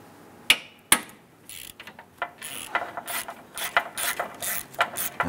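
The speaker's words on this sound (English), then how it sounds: "And loosen and remove that bolt." A ratchet with a 10 mm socket, swivel and extension clicks rapidly while loosening a bolt on a 2008–2013 Nissan Rogue during AC compressor replacement, two sharp knocks followed by a quick run of close ratcheting.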